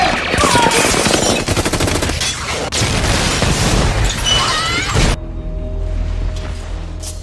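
Heavy gunfire and explosions from a film attack scene in which bazookas and large-caliber weapons tear through the walls of a house, a loud, dense barrage of rapid bursts and crashes that cuts to a quieter low rumble near the end.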